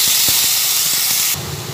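Chopped tomato lands in hot frying oil in a pan for tomato chutney, producing a loud, continuous sizzling hiss that drops to a softer sizzle near the end.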